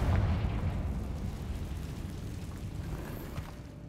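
A Confringo explosive spell goes off in the Hogwarts Legacy video game, a heavy boom up front followed by a low rumbling, crackling decay that stays fairly loud before easing off, with no voices.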